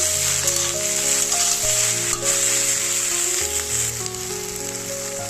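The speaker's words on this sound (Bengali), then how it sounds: "যার জন্য আমি হলুদ দিয়েই ভাজা করে নেবো।" Okra frying with turmeric in a pan, a steady close crackling sizzle that stays even throughout, with a faint underlying hum and no talking.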